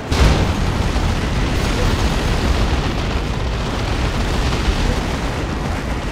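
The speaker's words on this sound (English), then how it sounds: "Land Raider Redeemer firing, and grenade shot there" Loud, dense battle noise from a Warhammer video game: a Land Raider Redeemer tank firing and a grenade exploding, merging into a continuous roar of blasts and rumble that fills the whole stretch.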